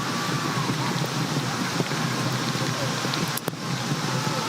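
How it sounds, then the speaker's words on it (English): Heavy rain falls during a live football match between Heart of Lions FC and Basake Holy Stars FC, a dense, constant broadband hiss with a few sharper pops, with a commentator's voice faintly under it. "At this point, it's raining heavily here in Pando"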